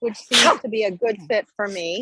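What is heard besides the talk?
sneeze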